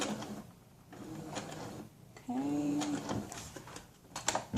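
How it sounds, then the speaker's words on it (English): A sewing machine stitches a seam on a GroVia hybrid cloth diaper shell during an elastics repair, a short mid-clip motor whir amid quiet handling noises, with a brief spoken word. "So let's sew that first."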